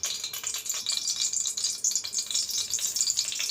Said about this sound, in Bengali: গোটা মশলাটা একটু ভেজে নেব